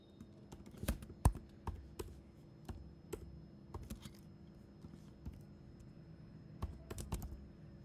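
Irregular bursts of clicky computer keyboard typing while entering code, close and fairly quiet, with short pauses between keystroke runs and no talking.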